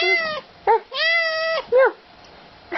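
Cats greeting their owner let out several loud, close meows, harmonic and rising then falling, in a quick series with short gaps between calls.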